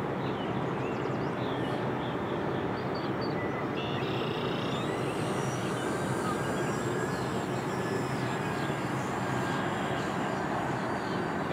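A Flite Test Widgeon RC plane takes off with its electric motor throttling up. A steady, dense rush of motor and propeller noise holds throughout, with a thin whine rising partway through, and no talk.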